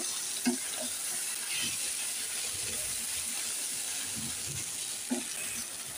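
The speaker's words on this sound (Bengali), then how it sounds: "মিশিয়ে নিচ্ছি, রসুন পেঁয়াজের সাথে একটু ভেজে নেব" Jute leaves frying with garlic and onion in a pan, a soft continuous sizzle with a few faint stirring knocks, moderate and close, no voices.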